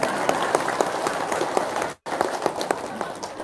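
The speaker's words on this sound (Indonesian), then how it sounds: "Ya udah, tepuk tangan dah." Audience at a religious gathering clapping steadily and fairly loudly for about two seconds, with a brief silent cut before the applause resumes at a similar level.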